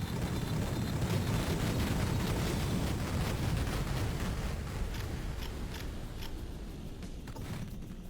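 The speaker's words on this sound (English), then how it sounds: "his missiles are pretty relentless" Boss missiles exploding in rapid succession in Duke Nukem 3D World Tour's Bloody Hell level, a dense, continuous roar of blasts and rumbling debris that stays loud throughout.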